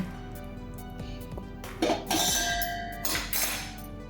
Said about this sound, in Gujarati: એક વાસણમાં અડદનો લોટ લીધો છે અને એમાં આપણે આ ગરમ કરેલું દૂધ અને ઘીને મિક્સ કરવાનું છે.